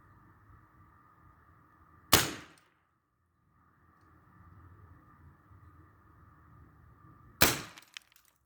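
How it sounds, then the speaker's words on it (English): A .357 semi-auto airgun fires pellets from about 20 feet into a plastic water jug: two sharp, loud cracking impacts several seconds apart over a faint, steady background hum. "we hit the water jug."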